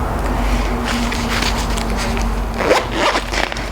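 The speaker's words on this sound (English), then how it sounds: "All right, one last zipper." A zipper is pulled closed in a couple of quick rasping strokes near the end, following a stretch of quiet rustling.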